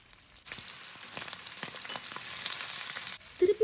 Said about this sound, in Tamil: அதை நல்லா ஃப்ரை ஆகட்டும்